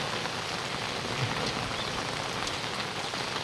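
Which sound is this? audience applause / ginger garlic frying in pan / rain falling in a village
rain falling in a village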